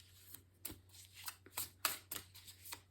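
Tarot cards being shuffled and drawn make a series of quick, close papery riffles and flicks at an uneven rhythm, fairly quiet against a low steady hum.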